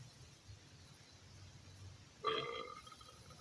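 A single short, loud burp erupts after a quiet stretch and trails off over about a second.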